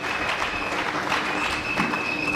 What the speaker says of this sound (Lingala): Nous pouvons acclamer très fort pour nous.